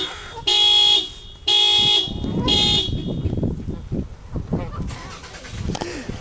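A car horn beeps loudly three times in an even rhythm, each blast about half a second long, followed by someone talking over faint background noise.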